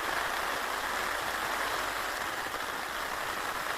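Steady rain drums on a Fjallraven Akka Endurance 2 tent during a night of camping, an even, dense hiss of drops on the fabric continuing unbroken with no voices.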